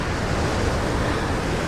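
Strong, steady wind in Tomb Raider: Definitive Edition, a dense roaring rush like gusting air or surf that stays loud and even throughout with no pauses.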